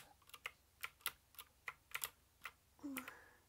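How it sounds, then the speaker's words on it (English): Rapid clicks from a clicky computer keyboard, typed in an uneven rhythm of sharp, close keystrokes, followed by a brief scrape-like rustle near the end; no one speaks. "if my keyboard's really clicky."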